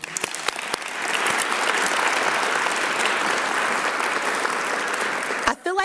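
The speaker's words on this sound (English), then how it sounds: "Let's give your family and friends an applause." A large winter commencement audience applauds families and friends, a loud, sustained wash of clapping filling the hall for several seconds before briefly dipping at the end.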